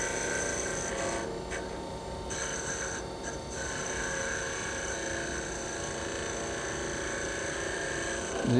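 A skew chisel cuts wood on a spinning lathe while turning Christmas bells, giving a steady close rasping, rubbing hiss with a constant whirring motor tone underneath and short dips in the cut.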